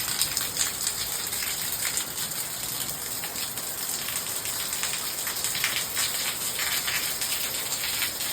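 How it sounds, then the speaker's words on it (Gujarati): Heavy monsoon rain pours down in a steady, dense hiss on surfaces, continuous and fairly close throughout with no pauses or talk. "આટલો વરસાદ આખા ચોમાસાનો"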